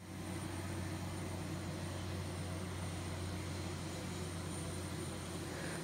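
A steady, loud jet airliner drone fills the air at an airport in Turkey, a continuous low rumble and whine with no breaks and no talking.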